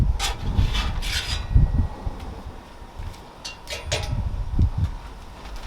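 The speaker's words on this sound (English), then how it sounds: "Put down a little oil. Use a spatula to kind of spread it around a little bit." A metal spatula scrapes and spreads oil across the hot surface of an Evo flat top grill, making repeated close rubbing strokes with faint sizzle in between.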